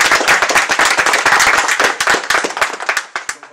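An audience at an evening event applauds, a dense burst of many hands clapping close and loud, thinning out toward the end into scattered sharper claps.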